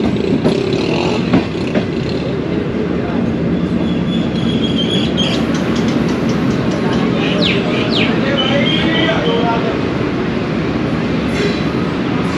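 The Bahauddin Zakaria Express passenger train rumbles steadily at a station platform in Shujabad, Pakistan, a loud continuous roll of wheels and carriages with faint squeals and occasional birds over it.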